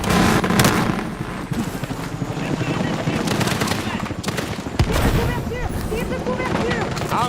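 Rapid machine-gun bursts and scattered rifle shots crackle through a Battlefield 6 firefight, dense and loud with booming impacts and in-game voices talking over the gunfire.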